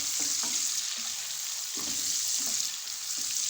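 Steady sizzling of a ginger and garlic tempering frying in hot oil for mustard greens, with a few soft stirring knocks.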